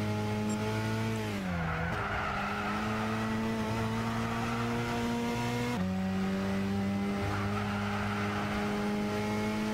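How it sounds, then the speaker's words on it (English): Rally car in Gran Turismo 6 with all-wheel drive, powering out of a corner: a steady engine drone that dips as it shifts, then rises again with tire skid noise, continuous and close, with no talking. "And then coming out of the corner with the all-wheel drive."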